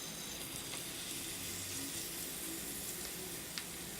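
Marinated paneer pieces frying in ghee or oil in a pan, a soft, steady sizzle with faint crackles, quiet and continuous with no voices.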